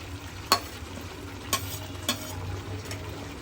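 Fried lentils stirred into chicken fry in a pan, a few distinct scraping clacks of a spoon against the pan over a quiet, steady sizzle.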